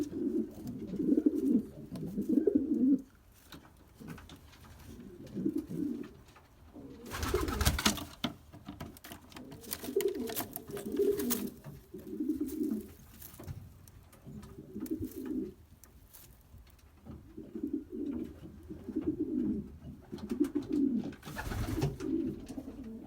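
Racing pigeons cooing on their nests in a loft, repeated soft throaty coos in overlapping rhythmic phrases nearby, with a couple of brief rustling thumps.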